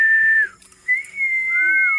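A person whistles outdoors while flying a kite, a clear, close, sustained high tone that glides down, breaks briefly, then resumes as a long steady note with a slight waver, and no talking.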